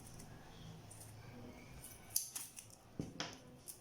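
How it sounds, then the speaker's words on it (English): Scissors trimming the edge of a handmade wedge heel: a few sharp snips cluster in the latter half, close and fairly crisp over a quiet background. "And trim it off. You can trim it off. Just trim it."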